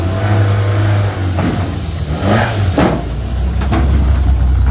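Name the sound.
rally car engine revving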